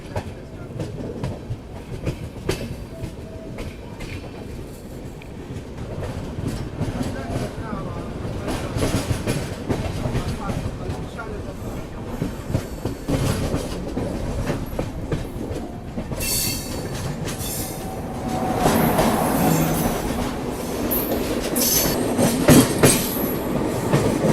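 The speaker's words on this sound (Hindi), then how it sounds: "एपी एक्सप्रेस के साथ क्रॉसिंग जो है वो ज़रूर से होने वाली है अपनी, और सामने जो है वो एपी एक्सप्रेस आ रही है।" An AP Express train passes close beside a moving Tamil Nadu Express, giving a steady loud roar with rhythmic clickety-clack of wheels over rail joints that swells toward the end; faint voices come through now and then.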